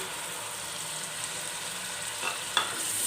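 Beef kofta gravy with yogurt stirs and sizzles in a pan, a soft, steady hiss close by with one or two faint scrapes of a spoon near the end.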